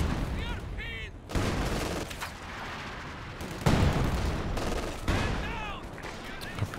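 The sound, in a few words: barrage and machine gun fire in video game Company of Heroes 2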